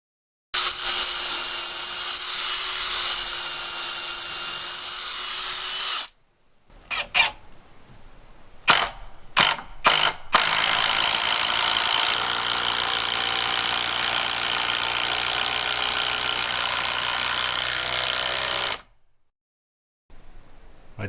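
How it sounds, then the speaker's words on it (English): Power drill countersinking screw holes in a 150-year-old wooden butcher's block, loud steady whirring runs for several seconds, then a few short bursts, then a long continuous drilling pass, with no talking. "I decided they needed a little bit of countersinking action."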